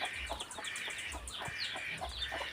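Several chickens on a backyard farm give soft, repeated clucks at close range, a low steady murmur of short calls with no talk over them.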